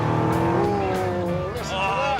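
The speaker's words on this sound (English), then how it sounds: "Oh, listen to the engine." An AC Cobra sports car with a Ford 4.2 V8 engine drives past, its engine note rising and falling loudly with some tyre noise, while a voice talks over it.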